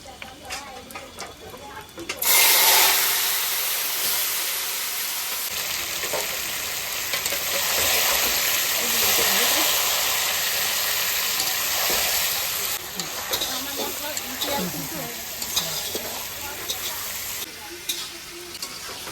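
Chicken hits hot oil tempered with dried red chillies, cumin, cinnamon, cardamom, cloves and bay leaves, and a loud sizzle surges up at once. Steady frying and stirring continue close by, with a voice talking over it.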